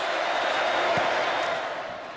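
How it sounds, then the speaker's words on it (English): A record crowd at the Notre Dame vs Georgia football game roars steadily, a dense, sustained wash of stadium noise that fades a little toward the end. "There's the part of the record crowd that's making a lot of the noise."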